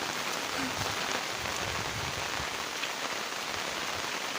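Rain falls steadily on surfaces outdoors near farm fields in Bhutan, a dense, even hiss that continues without a break for the whole stretch.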